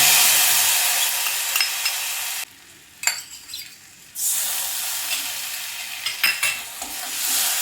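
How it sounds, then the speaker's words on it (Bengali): Kashmiri chili powder fries in oil and ghee with a loud, steady hiss, briefly dropping away, then sizzling back up as a spoon stirs and scrapes the pan. "কাশ্মীরি লঙ্কার গুঁড়োটা একটু তেলের মধ্যে কষিয়ে নিচ্ছি"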